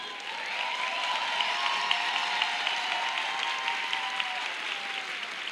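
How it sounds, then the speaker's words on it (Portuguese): A seminar audience applauds the whole team on stage, a sustained, dense wash of many hands clapping at steady volume throughout, with no voices over it. "Uma salva de palmas para essa equipe toda,"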